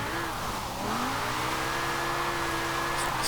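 A 1995 BMW M5 in Forza Horizon 4, engine held at a high, sustained rev while drifting, with a continuous tire squeal underneath and a slight pitch climb partway through.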